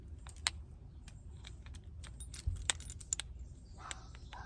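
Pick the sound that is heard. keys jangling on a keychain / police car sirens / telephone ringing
keys jangling on a keychain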